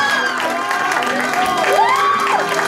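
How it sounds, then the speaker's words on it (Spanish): A crowd cheers and claps steadily at a quinceañera, with whoops and a rising shout over a dense wash of applause, loud and close throughout. "Un aplauso y un grito fuerte para esa linda parejita"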